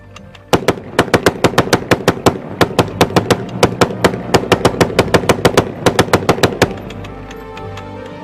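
A Gatling gun firing a rapid, even string of sharp loud reports, roughly thirty shots over several seconds, then stopping, with a low rumble beneath.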